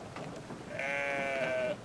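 A single sheep bleat from the video game Brothers: A Tale of Two Sons, a clear, wavering, sustained call lasting about a second over faint game ambience.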